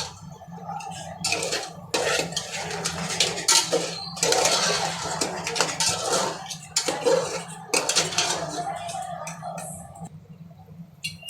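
Crab pieces stirred into masala in a metal pot, with steady clattering, scraping and clinking of a spoon against the pot that continues for several seconds, close and moderately loud.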